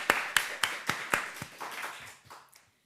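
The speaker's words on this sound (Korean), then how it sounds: "우리 하나님께 영광의 박수 올리겠습니다." Applause from a church congregation at a Korean Full Gospel Sunday service, with sharp, evenly spaced claps about every quarter second at first, then looser, softer claps that taper off and fade to quiet.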